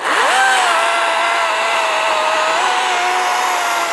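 A battery powered chainsaw runs at a steady, loud, high-pitched electric whine, revving up at the start and holding nearly constant with a slight pitch shift midway, close to the listener with no talk.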